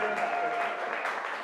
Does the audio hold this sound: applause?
yes